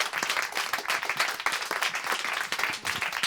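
A Demo Day audience applauds presenters with dense, continuous clapping, many hands close together in a lively, unbroken patter for several seconds.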